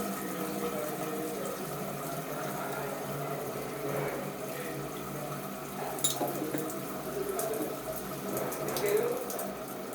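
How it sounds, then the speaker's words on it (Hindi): Water runs steadily from a thermostatic diverter spout during a shower mixer installation, a continuous close hiss and splash at a low, even level with a few brief clicks from the control. "आप पानी के फ्लो को देखिए, मैं इस कंट्रोल से एक बार सेट छेड़ता हूँ"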